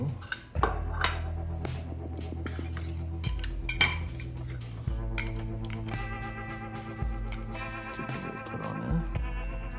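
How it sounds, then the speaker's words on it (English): Metal lid of a homemade tuna can alcohol stove being handled and closed, with close clanks, scrapes and ringing metallic clinks over several seconds, no talk. "close the lid while it's sitting down in there"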